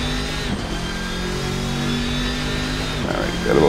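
A car engine in a racing video game holds a steady mid-pitched drone throughout, with a brief rise in revs near the end.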